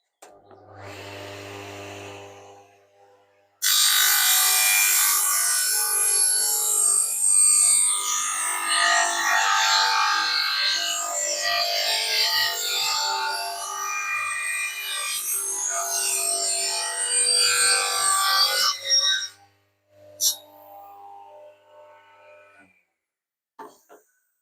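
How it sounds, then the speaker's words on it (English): A table saw set to a 25-degree angle cuts through wood. The blade spins up into a loud, sustained, harsh whine that lasts about fifteen seconds, then winds down into quiet with a few faint knocks. "I've put a 25-degree cut or angle on the table saw"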